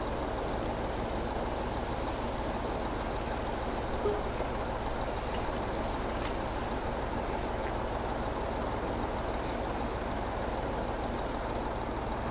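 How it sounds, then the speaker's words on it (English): Grain pouring out of an emptying harvester in Farming Simulator, a steady, even rushing hiss like flowing water that holds at a constant low level throughout with no break. "I've got to empty out my harvester"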